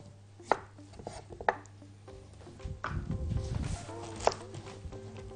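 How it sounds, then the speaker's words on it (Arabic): Knife chopping peeled taro lengthwise on a cutting board, with a few sharp separate strikes and a denser stretch of cutting in the middle, close and fairly quiet over a low background hum. "بعد ما قشرناها تقطعيها كده بالطول الاول"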